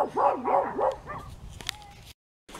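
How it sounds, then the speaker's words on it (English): A dog vocalizes close by in a run of rising and falling whining yips and barks that tail off, followed by a brief silence. "All right, enough barking."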